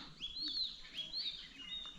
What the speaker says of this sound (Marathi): पाखरं ओरडत आहेत